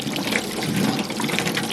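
Water poured from a bucket onto a garden bed, a steady close splashing and trickling that runs continuously without pause.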